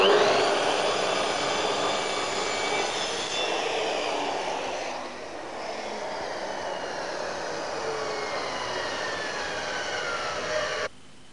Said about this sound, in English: then it's as easy as this to cut a bevel mitre